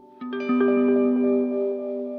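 A guitar note rings out through a pedal that warps its pitch, with wobbling, shifting tones and echoing repeats sustaining beneath.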